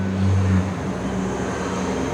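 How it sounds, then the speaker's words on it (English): Bus passing nearby on a street, a low engine drone and rumble that is loudest at first and then settles into a steady, fainter roadway hum, with no talking. "Apologies for the bus noise if you can hear it."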